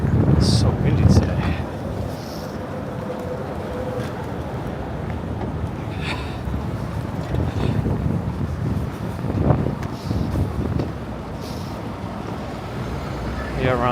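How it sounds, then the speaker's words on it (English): Strong wind buffeting a microphone while walking the streets of Manhattan, a loud continuous roar with gusty swells, distant traffic rumbling underneath and a voice speaking over it at times. "Man, it's so windy today."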